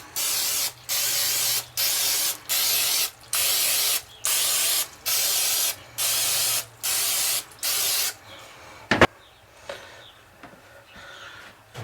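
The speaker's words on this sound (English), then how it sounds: "Take our cupcake pan, spray it down." Cooking spray hisses onto a cupcake pan in about ten even bursts, each roughly half a second with short gaps, close and steady, then a single sharp clank and quiet handling noises.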